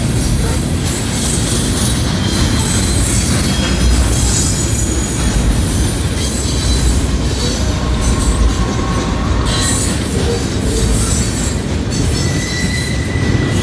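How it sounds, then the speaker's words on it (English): A heavy coal train with distributed power units rolls steadily past at a railroad diamond crossing, its loud, continuous rumble of cars mixed with clicking wheels and occasional high wheel squeal, close and uninterrupted throughout. "Train in front of me and one in back of me."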